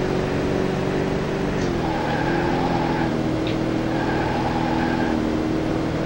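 A Corvette engine in a racing video game drones steadily through a warm-up lap, holding a loud, close tone whose pitch dips and climbs slightly as the car shifts and eases through corners.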